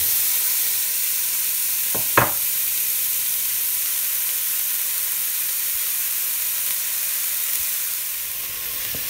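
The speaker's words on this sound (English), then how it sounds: "it's now ready to start frying the onions and the carrots" Steady sizzling hiss of onions and carrots frying in a pot, with a couple of brief clinks near the start and no talking.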